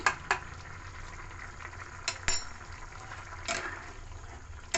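Soybean dal with garam masala and ghee is stirred in a pan, giving a soft, faint wet sizzle with a few scraping clacks of the spoon spread across the stretch.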